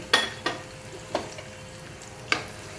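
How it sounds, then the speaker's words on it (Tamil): Raisins frying in a pan for a fried gram laddu, with a few sharp stirring clinks and brief sizzling bursts spaced over a quiet background, no talking. "நல்லா ஃப்ரை பண்ணிக்கலாம் நல்லா திராட்சை நல்லா உப்பி வரும்"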